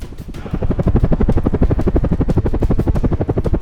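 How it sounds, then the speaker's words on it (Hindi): A Chetak helicopter lands on the helideck of a moving ship at sea, its rotor blades beating a loud, steady rapid chop close by, with engine whine underneath and no talk. "चेतक हेलीकॉप्टर बड़ी सावधानी के साथ चलते जहाज पर लैंड हो रहा है।"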